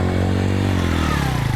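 Motorcycle engine running close by during a practice ride in Pakistan, a steady loud drone that rises slightly in pitch toward the end as it accelerates.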